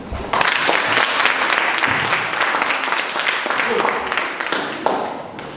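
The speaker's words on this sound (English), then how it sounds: "Clap for yourself." Prefects at a primary school leadership training workshop clap for themselves, a dense, steady burst of hand clapping that starts abruptly and fills the room for several seconds before thinning out.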